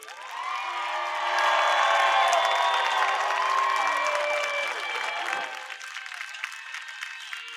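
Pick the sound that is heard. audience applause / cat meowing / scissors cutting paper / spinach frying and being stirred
audience applause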